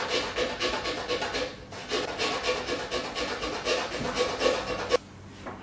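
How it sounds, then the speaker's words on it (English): A fine marquetry saw cuts through thin wood veneer using a double bevel technique, giving a close, rhythmic rasping scrape of quick back-and-forth strokes that stops abruptly near the end. "you move the saw in a counterclockwise direction and angle the blade toward your"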